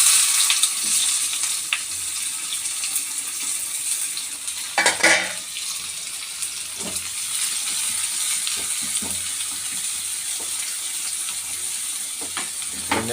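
Onions dropped into hot oil already popping with mustard seeds give a steady, close sizzle and hiss throughout, broken by a brief clatter of a spoon against the pan midway.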